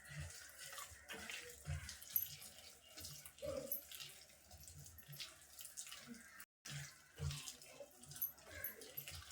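Water is poured into a bowl of rice flour batter for crispy punugulu fritters, giving faint trickling and splashing with small clinks and handling noises, quiet and close.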